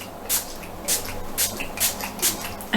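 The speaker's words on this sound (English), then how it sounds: "a few sprays of that to make my skin damp" Vitamin C detox facial spritz sprayed onto skin, five or six short hissing pumps at an even pace, close and fairly soft, with no talking.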